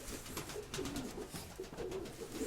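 An old pigeon coos in soft, repeated low calls, two phrases close by with faint background noise and no talking.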